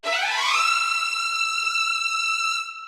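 A disco strings plug-in plays a fast E Dorian scale run from low E up to the next octave, swooping upward and then settling on a long sustained bright string note that fades at the end, with no talking.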